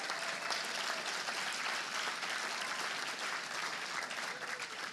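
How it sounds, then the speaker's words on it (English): Sustained audience applause fills a fundraiser hall for a ministry, a dense steady wash of clapping from a large crowd with no break, loud and even throughout. "Jocelyn Decker, could we give her a round of applause as well?"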